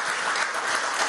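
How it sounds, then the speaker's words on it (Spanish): A crowd at the Expo Portuguesa Potencia 2019 event claps in a brief, dense burst of applause, steady and fairly loud throughout, with no talking over it. "Aplausos, aplausos y más aplausos para ustedes."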